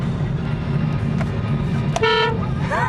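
A short, bright toot from an upgraded car horn on a Mazda 3 sounds once near the end, loud and close over a low idling engine rumble.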